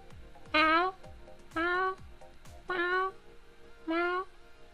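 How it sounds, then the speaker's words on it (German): A tomcat meows four times in a slow, regular series, each call clear and drawn out with a falling tone, over a quiet background. "Und im Hintergrund könnt ihr vielleicht mal einen Kater hören."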